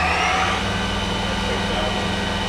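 A Yama Seiki VMB 1200 CNC vertical machining center spindle spins up to 4,500 RPM as a steady mechanical whine with a rising tone over a continuous low hum, heard close and fairly loud.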